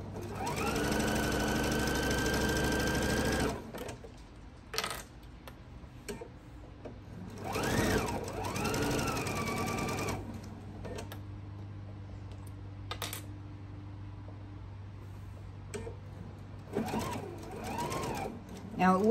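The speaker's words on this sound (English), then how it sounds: "Just slow down with your sewing machine." A sewing machine stitches fabric in quick, rhythmic bursts: a long run at the start, then shorter runs in between, while someone talks across the quieter stretches.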